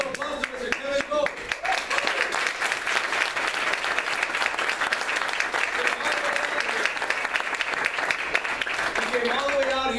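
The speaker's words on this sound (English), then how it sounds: "Let's give a round of applause to Mr." A room of people at a training session breaks into sustained applause for a guest, dense clapping at steady strength throughout, with a voice talking briefly near the start.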